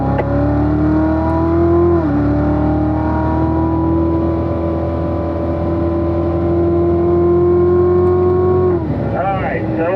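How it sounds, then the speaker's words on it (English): Corvette engine drones loudly and steadily on a race track as it accelerates past other cars, the tone rising and holding through gears before dropping near the end, heard from inside the car. "We're going to pass this group here, so we'll pass them on the straight."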